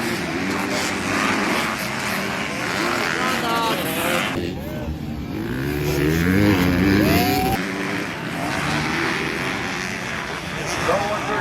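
Stadium motocross race with dirt bikes including a Yamaha, engines roaring loudly and continuously with rising and falling revs as bikes pass, a crowd and commentator voice mixed in throughout.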